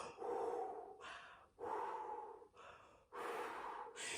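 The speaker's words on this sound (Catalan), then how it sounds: "Va respirar 3 vegades." Three slow, deep breaths, each a breathy inhale-exhale cycle separated by short pauses, close and fairly soft, with no speech.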